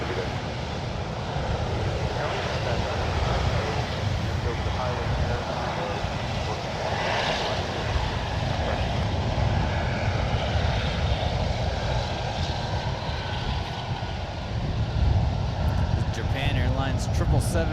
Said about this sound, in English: Japan Airlines 777 taxiing out here to the 28s for departure back to Tokyo Narita.